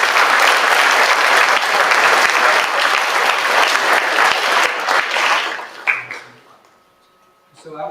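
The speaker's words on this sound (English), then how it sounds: "So, put a round of applause for those guys finally." Dense, loud crowd applause fills the hall at the Subiaco Academy athletic awards ceremony for about five seconds, then dies away into near quiet with a few scattered sounds at the end.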